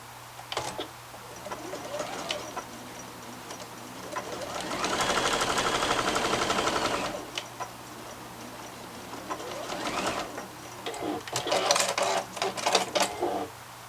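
A sewing machine stitches a face mask seam in two bursts of rapid, whirring needle action, the first steady for a few seconds, the second choppier, with quiet handling noises in the pauses.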